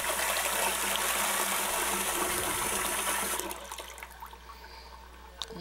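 Water gushes steadily from a bathroom sink faucet, loud and continuous for about three seconds, then shuts off, leaving quieter drips and small clatters.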